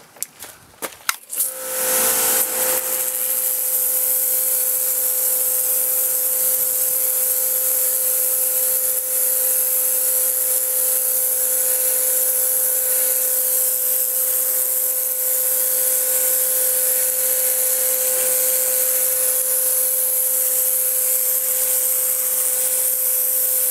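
Briggs & Stratton electric pressure washer with the red turbo nozzle, cleaning concrete, starts after a few clicks, then runs as a loud, steady, high-pitched motor whine with a hissing water spray, continuous and close.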